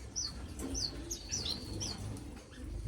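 Small owl finches chirp in a bird room, a handful of short high tweets spread across a few seconds over a steady low room hum, with faint rustling and no talking.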